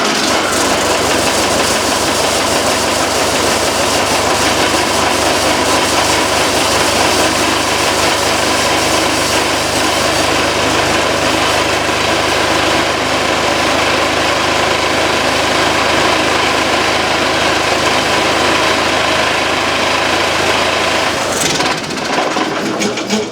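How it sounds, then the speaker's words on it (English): An Onan 4BGEFA26100K generator engine runs with its muffler shrouding removed, a loud, harsh, steady mechanical clatter heard up close and alone for over twenty seconds before abruptly cutting off near the end. "Don't want to let it run long without the shrouding on it. But the generator part seems to work."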